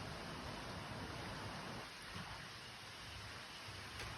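Steady rain falls on a beehive apiary run by Thai workers in Israel, a constant dense hiss with a slight dip midway and no voices.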